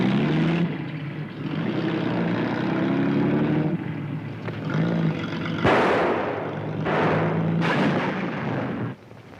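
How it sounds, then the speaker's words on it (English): A propeller-driven patrol plane comes in to land, its engine droning loud and close, while bursts of other noise cut in over it. "There's a patrol plane landing out here."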